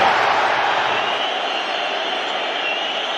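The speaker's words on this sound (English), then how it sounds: "The Anfield crowd trying to alert Gakpo to that" Crowd at Anfield shouting during a football match, a steady dense roar of many voices that fills the whole stretch at even loudness with no pauses.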